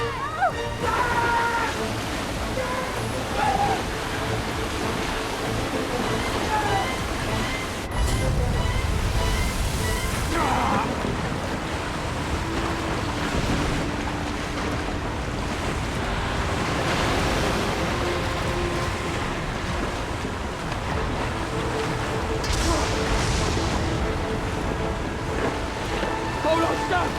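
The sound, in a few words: rising floodwater and waves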